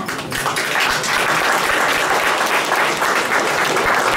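Concert audience applauding during a song performance, a loud, dense and even burst of clapping from a large hall crowd, sustained for several seconds.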